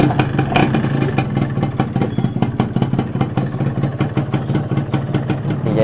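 A two-stroke motorcycle engine from around 2015-16 runs close by with a rapid, rattling idle and periodic revs, loud and steady throughout.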